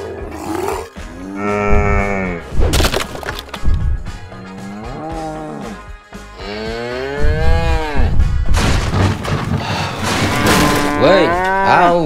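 Loud, drawn-out cartoon cow moos repeat across the span, some deep and some rising, with no talking between them.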